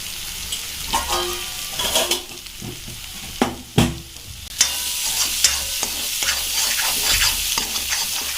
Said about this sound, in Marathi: तर मित्रांनो आता मी ते एक चमच हळद ॲड करते